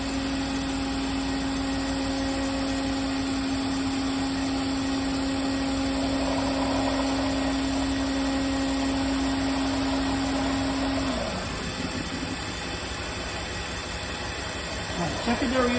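A BMW E46 engine idles smoothly while its secondary air pump runs, giving a steady hiss with a droning tone that stops partway through, leaving a quieter idle.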